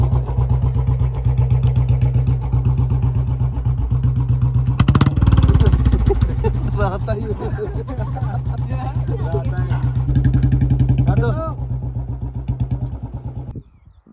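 A Royal Enfield Bullet motorcycle engine runs with a steady low thumping pulse, swelling briefly louder midway before settling and cutting out near the end, while people talk nearby.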